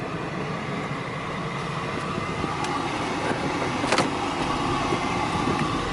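Mercedes-Benz W140 limousine driving on a test drive with its check engine light on, a steady interior road rumble and engine hum with a few faint clicks and rattles, no talking.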